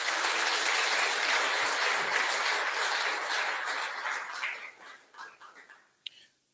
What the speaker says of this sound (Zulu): Ngicela abafowethu isigungu sishaye ihlombe